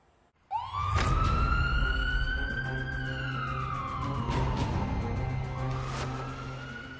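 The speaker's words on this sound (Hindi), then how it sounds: "जहां सायरन बजाती पुलिस की गाड़ियों के पीछे एक लाल रंग का ट्रक देखिए।" Police car sirens wail loudly through the streets of Jingxi, China, a rising and falling electronic tone that starts abruptly and holds for several seconds, with traffic rumble beneath and no speech.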